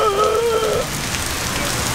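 Steady rain patters on a hard surface close by, a dense continuous hiss, with a brief tonal whine near the start.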